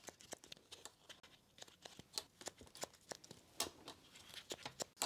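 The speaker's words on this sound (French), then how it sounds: "Je viens griffer le papier pour qu'il pas s'effiloche, qu'il se file." Close, dry scratching and tearing of thin paper as scissors scrape it for a scrapbooking craft, in quick irregular strokes and crisp crinkles with no talking.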